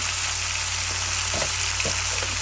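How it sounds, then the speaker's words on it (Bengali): Spiced chicken frying in a pan for Bengali chicken kosha, seasoned with turmeric, Kashmiri chilli and garam masala, giving a steady close sizzle with a few soft stirring scrapes and no talking. "এবার এটাকে ভালো করে কষিয়ে নেবো"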